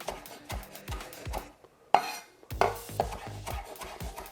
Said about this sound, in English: I have some parsley here, and I'm just going to rough chop this